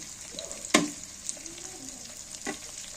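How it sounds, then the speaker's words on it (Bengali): Onions and green chilies fry in a pan with a steady soft sizzle, broken by a sharp scrape of a spoon stirring near the start and another later, with no talking. "পেঁয়াজটা এখন হালকা বাদামি কালার হয়ে আসছে, এখন আমি কাঁচামরিচ দিয়ে দেব। কাঁচামরিচ দিয়ে কিছুক্ষণ নাড়াচাড়া করব।"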